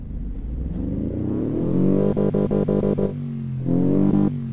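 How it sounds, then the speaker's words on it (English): A 1957 rally car engine in the game Automation starts and idles with a rough putt-putt, then revs in short rhythmic bursts before settling and revving again; loud and close, no talk. "Start it up. That's a nice little putt-putt noise"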